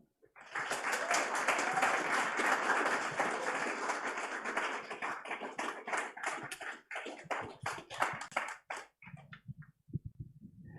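Audience applause after a startup pitch at a biotech showcase: a sharp onset of dense clapping that gradually breaks into sparse, separate claps and trails off into a few quiet taps.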